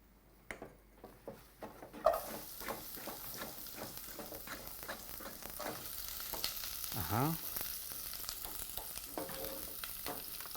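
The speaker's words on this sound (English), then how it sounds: "now you can begin the process by adding your onions first" Onions fry in a pot for a Kenyan matumbo dish, first with a few scattered taps and stirs, then a dense, steady sizzle with occasional spatula scrapes and a brief voice-like sound mid-way.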